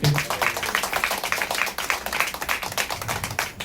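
A church congregation claps in unison, a dense, rhythmic run of sharp hand claps that continues steadily for several seconds, loud and close, with voices mixed faintly underneath.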